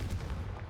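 A Confringo fire spell cast in Hogwarts Legacy, a short, dull explosive boom with a rumbling low burst that fades within a moment, heard alone.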